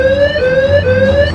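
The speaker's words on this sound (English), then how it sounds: "Just then a loud alarm blares through the hospital" A loud alarm blares through a hospital in a Choices video game scene, a steady wailing electronic tone that dips and repeats in a regular cycle, close and dominant with no voices.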